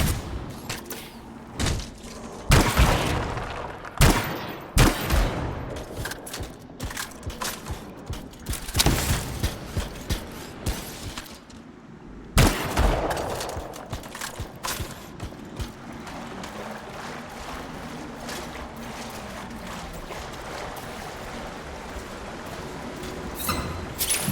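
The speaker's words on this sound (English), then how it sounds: "Oh, more bombs." Bombs and gunfire in the video game Anthem: bursts of shots and booming explosions come in clusters, loud and close, with short lulls between volleys and a rumbling bed of combat noise.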